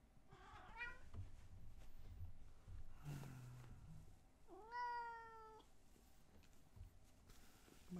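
Cats meow several times in the morning, one long rising-falling meow standing out mid-clip, over quiet room noise with faint shuffling.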